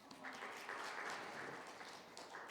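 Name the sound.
applause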